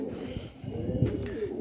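Pigeons coo softly nearby in low, rounded rolling calls over a quiet outdoor background.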